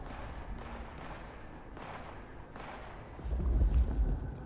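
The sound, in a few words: gunshots in Vampire: The Masquerade Bloodlines 2 video game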